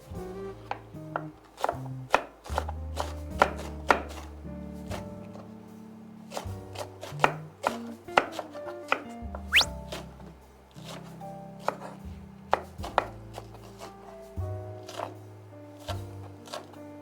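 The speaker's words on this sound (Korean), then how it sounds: "다음에는 대파 손질을 하겠습니다" A knife chops green onion (daepa) on a cutting board while a beef brisket and mallow doenjang soup is prepared, the blade knocking out a dense, fairly steady run of crisp taps over a faint musical bed.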